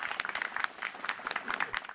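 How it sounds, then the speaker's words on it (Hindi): An audience at a farmers' question forum on a palm oil mission applauds in a brief burst of brisk, uneven clapping, moderately loud and close, with no clear talk over it. "जोरदार तालियों से अपना भी स्वागत कीजिए"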